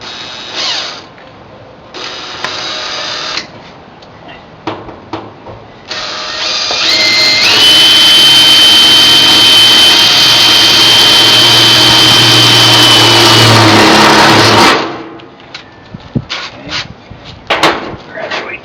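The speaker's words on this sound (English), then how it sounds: "I have a little smaller drill to start with, drill bit." Electric drill with a small bit boring a pilot hole into a horse trough for a garden watering system: short bursts first, then a long sustained high whine under load before it stops, loud and close.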